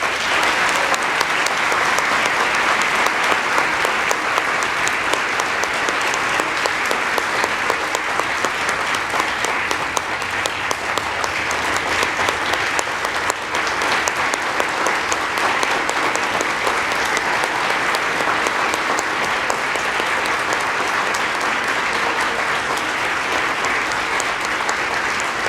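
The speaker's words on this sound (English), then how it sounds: "Please give a big round of applause for all of our awardees." Sustained, loud applause from a large audience at an anti-corruption award ceremony, a continuous even roar of many hands clapping for over twenty seconds without speech.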